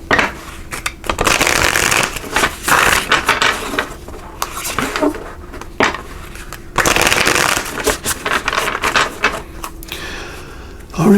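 Oracle cards being shuffled and drawn during a tarot-style reading, with repeated papery riffles and slaps in bursts, close and fairly loud, with short pauses between shuffles.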